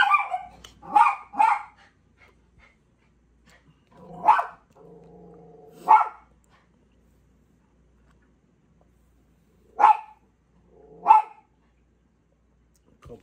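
A dog barks in short, separate bursts close by, sometimes a quick double bark, with a low whine or growl between some of them and long quiet gaps.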